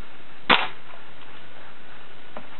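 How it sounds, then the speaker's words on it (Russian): A single sharp rifle shot cracks once as the trigger is pulled after the safety lever is pushed off. It is brief, close and alone, with a faint click afterward. "И дальше нажимаем на спуск для выстрела."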